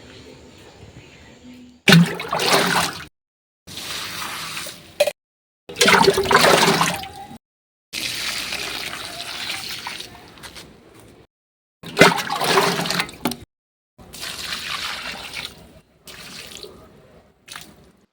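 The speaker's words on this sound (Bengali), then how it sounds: "এখন আমি গাছগুলোতে জল দিয়ে নিচ্ছি" Water splashes and pours in repeated bursts onto garden plants, roses and a flowering creeper in a yard, each gush lasting a second or two and separated by brief silences, close and fairly loud.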